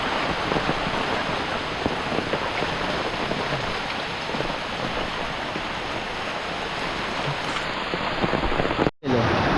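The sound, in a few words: heavy rain falling at a riverside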